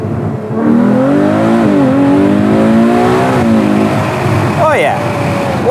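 A Ferrari 812 GTS with Novitec modifications revs hard in race mode, its V12 pitch climbing through a couple of gears up close, then dropping before a quick sharp blip; people talk over it.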